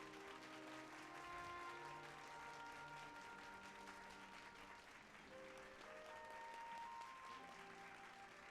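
A crowd applauds during a cutscene in the game Final Fantasy 14, dense steady clapping that continues for several seconds over faint background music tones.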